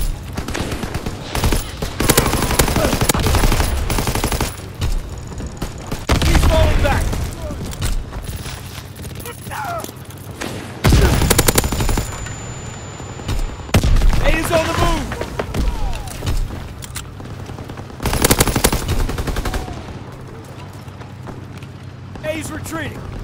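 Bursts of automatic and single-shot gunfire in the World War II shooter game Call of Duty: WWII during a War-mode match, dense and loud through most of the stretch, with in-game voices calling out over the shooting.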